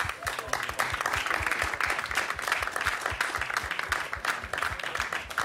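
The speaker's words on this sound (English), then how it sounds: "Can we give him a round of applause, please?" Crowd applause at the FIFA eClub World Cup 2019 final, greeting the director of eFootball and gaming: loud, sustained clapping from a large audience in a hall, with clear individual claps throughout.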